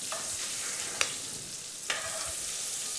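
Meatballs or dough pieces frying in hot oil for a Moroccan-style tajine dish, a steady broadband sizzle throughout with a couple of sharp clinks of a utensil, no talking.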